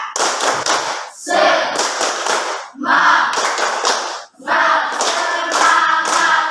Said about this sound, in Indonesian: Kita buat dulu tepuk semangat